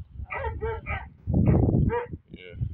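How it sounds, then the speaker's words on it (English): Several dogs bark in short bursts a little way off, with yips and whimpers between them, while someone talks over them. "excuse them dogs back there"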